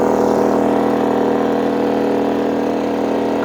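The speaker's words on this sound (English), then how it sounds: "Compressor's on." An air compressor runs off a GENMAX GM3500Xi open-frame inverter generator already powering 2,000 watts of lights, a loud steady mechanical drone that holds constant throughout with no talk.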